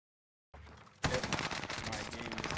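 An Owen submachine gun in Warzone opens up after a quiet half-second lead-in, then a loud, continuous rapid burst of close gunfire runs to the end.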